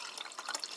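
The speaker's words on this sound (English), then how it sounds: "2 tablespoons of the Orange Gatorade mix, and you pour in the glass with water" Water is poured into a glass holding orange Gatorade powder mix, giving a short, soft, bright trickle and splash with fluttering pitch, heard alone.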